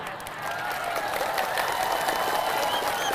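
An audience at a Ramadan sermon breaks into sustained applause, a dense, steady wash of clapping that stays even and loud for the whole stretch.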